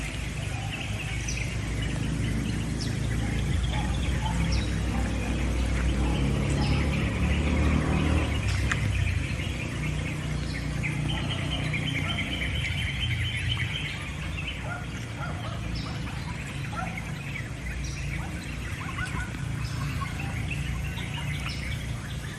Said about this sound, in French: le concert des oiseaux